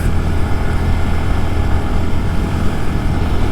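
A 2023 Honda Grom motorcycle engine is held at full throttle, a loud, steady droning buzz with a constant rumble and no letup, with no talking over it.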